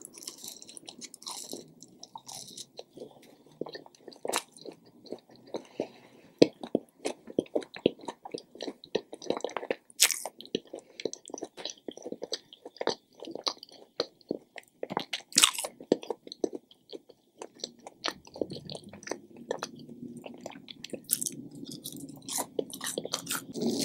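Wingstop fries and chicken wings being eaten, with crunchy bites and wet chewing repeating steadily and up close for the whole stretch, no talking.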